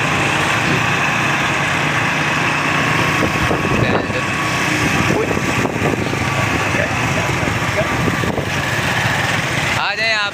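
A small motorbike engine drones steadily while riding through town toward a market, with wind rush and road noise and a brief voice near the end.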